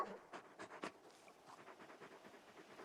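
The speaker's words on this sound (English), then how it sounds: "You're just a big puppy, aren't you? A very big puppy." Torgal, the big dog from Final Fantasy XVI, pants softly in quick, uneven breaths, faint and close, with a few sharper huffs early on and no talking.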